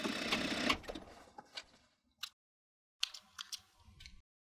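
Sewing machine stitching forward and back across a jeans waistband: a fast whirring run at the start, then short separate bursts of stitching with silent gaps between them, heard up close and fairly quiet.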